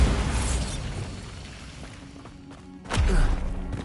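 Spell blast from Bombarda in Hogwarts Legacy: a sudden sharp burst near the end, following a lower rumbling, crackling magical effect, loud and close with no talk.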